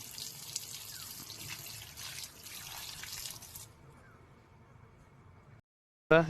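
Hands are washed under a running tap in a home kitchen, a soft, steady stream of water splashing into a sink, with the flow shifting partway through before going quiet; a brief loud sound follows at the very end.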